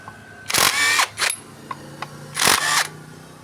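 An impact wrench loosens 8 mm bolts on a Yamaha Freego scooter during an oil leak repair, firing in three sharp rattling bursts, the middle one shorter, close up with quiet pauses between.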